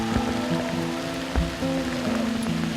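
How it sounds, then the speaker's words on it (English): Steady rain falls with a constant wash of noise, a few heavier drops and faint low rumbles standing out against the patter. "It's raining again."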